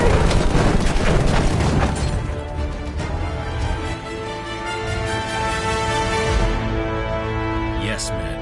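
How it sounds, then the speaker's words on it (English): An anti-aircraft gun fires in a wartime video game, with loud booming blasts and rumbling, crashing bursts that are dense at first and then thin out. Voices talk over the gunfire. "That's the aircraft gun."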